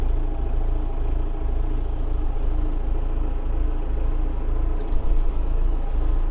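A Valtra A95 tractor with a self-leveling loader idles nearby, its engine a steady, loud low rumble that holds constant throughout with no speech.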